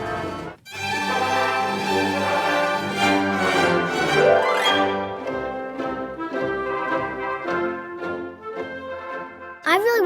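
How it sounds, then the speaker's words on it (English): Full orchestra of musicians playing together, a dense sustained blend of strings and winds with a rising swell, loud and continuous with no talking. "An orchestra is a group of musicians that play instruments together."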